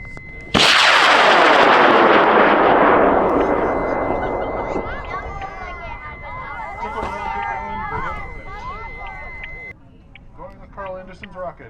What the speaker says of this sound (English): Going with Carl Anderson's rocket in 5, 4, 3, 2, 1.